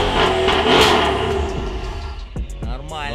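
Mercedes-Benz W222 S63 AMG with its 6.3 engine revving and the exhaust set to its loudest mode, a close throaty rev that swells and then fades, with brief talk over the end.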